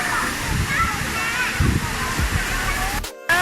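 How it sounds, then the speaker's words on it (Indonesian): Water from an artificial waterfall in Singapore splashes and sloshes close by in a continuous spray, while a person talks over it; the sound briefly cuts out near the end. "Tuh dari dekat nih teman-teman, airnya nyiprat-nyiprat deh"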